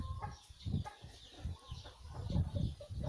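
Six young roosters of Burmese breeder stock, about seven to eight months old, cluck and chatter in a pen, with repeated short bursts of clucking at close range.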